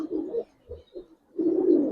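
Young female pigeon cooing close by in a few low, rounded phrases: a longer coo, two short ones, then another sustained coo, with no talking.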